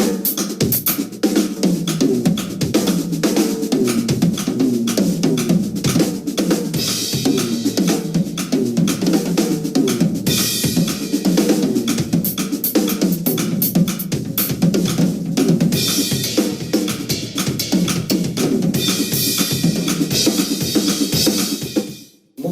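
Drum kit at 120 BPM, dense sixteenth-note fills running continuously with shifting phrasing, loud and close, steady rapid hits throughout with cymbal wash, no talking.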